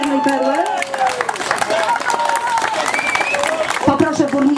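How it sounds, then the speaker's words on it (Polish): Crowd at a lakeside sailing regatta on Narie Lake applauding the winning crew of the Black Pearl, scattered clapping mixed with cheering and voices talking over it. "Oczywiście wielkie brawa dla Czarnej Perły."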